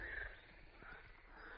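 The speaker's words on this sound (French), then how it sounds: "Ah, on vient de réveiller les grenouilles." Frogs croak from a pond at the Mare aux Fées in Fontainebleau forest, a low, faint, rattling chorus that rises and falls without talk over it.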